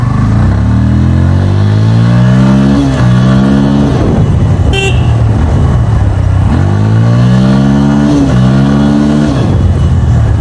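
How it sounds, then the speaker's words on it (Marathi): A motorcycle engine in a garage revs loudly and close as the throttle is pulled; only the revs climb. It rises in pitch and falls back twice, with no talking. "मी ज्यावेळेस पण गाडीचा थ्रॉटल ओढतोय ना, तर त्यावेळी ह्या गाडीचं फक्त ॲक्सिलरेटरच वाढतोय."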